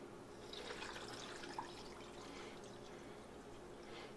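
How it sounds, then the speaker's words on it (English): Water being poured into a jar holding a handful of kosher salt to mix a brine, a faint, steady splashing and trickling pour that runs throughout. "Add your water."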